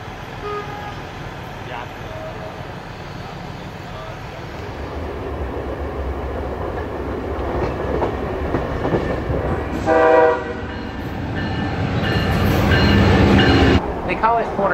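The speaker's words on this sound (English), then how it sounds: "the train makes its stop in Greenwood" A passenger train on the former Illinois Central Yazoo district pulls into its stop at Greenwood, with steady rumble and clatter of cars, then a loud horn blast near the end, heard close with some voices.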